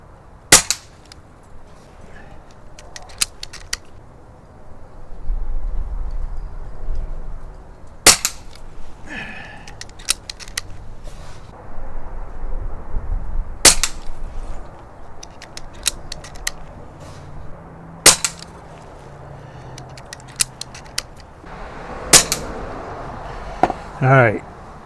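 Umarex Notos air rifle firing JTS Dead Center pellets outdoors, with about nine sharp, separate shots spread irregularly through the stretch over quiet background and low handling noise.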